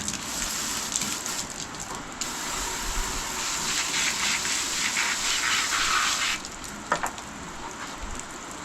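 A hose spray nozzle rinses out a cleaned crab, giving a steady, close hiss of water spray with a brief louder gush near the end and no talking.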